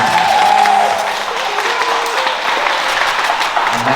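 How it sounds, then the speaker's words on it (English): Audience applause at an Irish CrossFit gathering, a steady dense wash of clapping holding for about four seconds at fairly close range, with a few voices mixed in. "So one more time, give him a round of applause."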